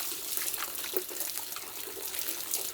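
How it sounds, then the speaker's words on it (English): Water pours steadily from a bucket shower in a remote alpine hut, a continuous close splashing gush that runs unbroken with slight surges throughout. "I guess it's time to take a shower."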